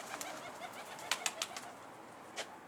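Soft cooing from a domestic pigeon at a Turkish rooftop loft, a few faint, brief calls spread over quiet background hiss, with no talking.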